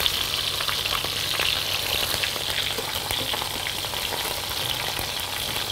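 Brisket browning its second side in a pan for black curry, a dense, steady sizzle of frying fat with fine crackles and pops throughout, close and continuous, with no talking.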